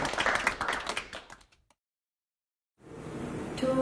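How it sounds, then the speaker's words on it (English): Applause for an honoree at a virtual high school graduation ceremony: fast clattering claps that thin out and stop into a second of silence, then a quieter murmuring room with scattered sounds. "a big round of applause to Honorable Diana Abigail D."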